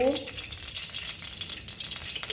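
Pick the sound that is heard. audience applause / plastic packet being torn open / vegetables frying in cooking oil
vegetables frying in cooking oil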